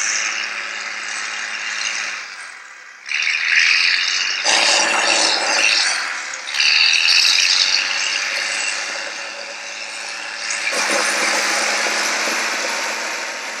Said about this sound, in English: The sand that we're dumping now has been taken from Skinner's Turn Road.